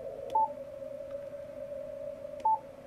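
Through a tight audio peak filter on a Yaesu amateur radio, a steady ringing tone of filtered noise ripple holds throughout at low level, with two brief brighter beeps near the start and end.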